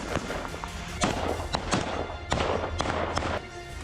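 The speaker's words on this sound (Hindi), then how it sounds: "उसके बाद ताबड़तोड़ फायरिंग की गई।" Rapid gunfire during a military raid on a village building in southern Lebanon, a string of sharp cracks and thuds spaced irregularly over a few seconds, fairly close and loud.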